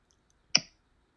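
A single crisp computer mouse click, close and isolated against near silence.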